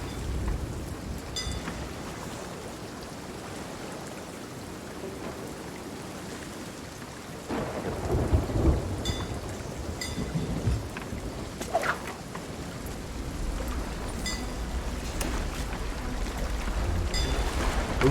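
A thunderstorm at sea in the pirate game Sea of Thieves: constant heavy rain hisses throughout, with deeper rumbling surges and swells of wind and water building in the second half.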